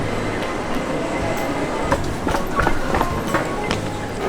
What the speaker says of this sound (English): we have to take a tram to our next gate